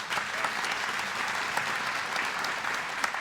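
Audience at a State of the City address in Eugene breaking into steady, dense applause, a continuous even roar of clapping from a sizeable crowd at moderate distance.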